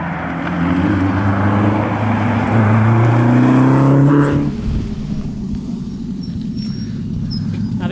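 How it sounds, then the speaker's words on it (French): A Renault 5 Turbo 2 rally car at the Coupe des Sources 2012 rally roars loudly nearby, engine note climbing steadily before cutting off abruptly, leaving quieter outdoor ambience. "présenter une magnifique Renault 5 Turbo 2"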